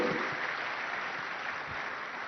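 Steady applause from a summit audience, continuous and fairly even throughout, with no voices standing out.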